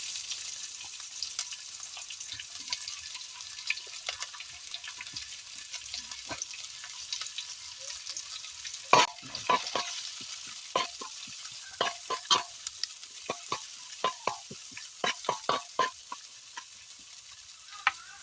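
Chopped large onion frying in hot oil in a pan, a faint, even sizzle with intermittent scraping clicks of stirring that grow busier partway through.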